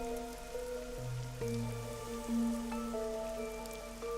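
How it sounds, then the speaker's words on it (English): Steady rain falls over a city in the video game Master Detective Archives: Rain Code, a constant hiss beneath sustained tonal music notes, with no talking. "A city where it's always raining."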